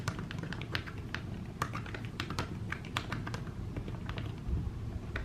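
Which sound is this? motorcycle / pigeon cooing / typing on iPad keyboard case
typing on iPad keyboard case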